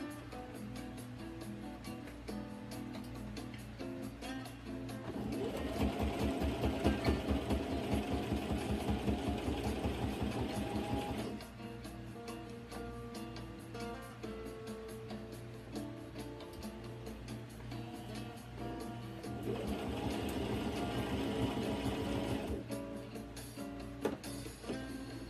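A sewing machine stitches lace onto a camisole, running in two loud rapid whirring bursts separated by quieter pauses near a steady background hum.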